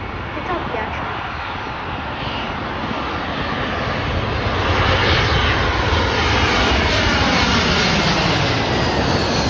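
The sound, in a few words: United Airlines airliner from Cincinnati passing at O'Hare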